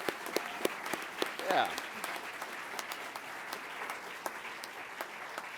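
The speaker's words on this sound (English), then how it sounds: "Yeah, we can clap for that." Scattered applause at a US Air Force undergraduate pilot training graduation ceremony: sparse, distinct claps spread over several seconds in a large room, with a brief voice partway through.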